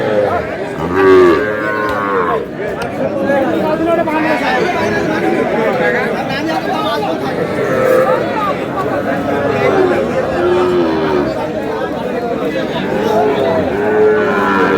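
Young bull calves moo repeatedly at Aftabganj cattle market, close and loud over constant crowd chatter and voices throughout.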